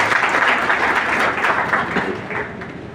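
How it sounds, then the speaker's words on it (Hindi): Loud, sustained applause from a crowd at a BJP candidate's meeting with party workers, a steady dense wash of clapping with no talk over it. "तो एक बार जोरदार ताली अभिषेक जी के लिए।"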